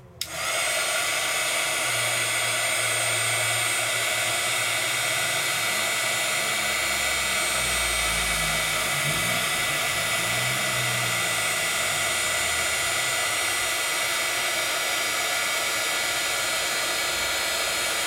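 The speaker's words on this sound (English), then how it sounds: "let's grab my heat tool" A heat tool blows a loud, steady rushing whir of hot air over Dreamweaver crackle paste spread on a black surface, continuous and close throughout with a slight low rumble shifting underneath.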